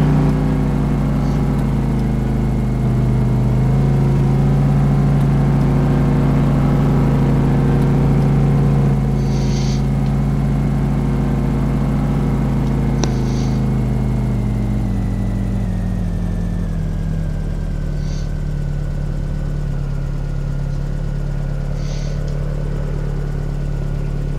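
Mercedes vehicle engine in Farming Simulator 15, a steady low engine drone that idles and then drops in pitch, loud and continuous with a few faint clicks, and no talk.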